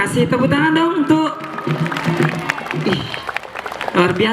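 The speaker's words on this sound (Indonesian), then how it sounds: "tepuk tangan dong untuk" A school audience claps for a student performer at a Bugis-Makassar cultural event, applause swelling under a host's voice and tapering while talk continues.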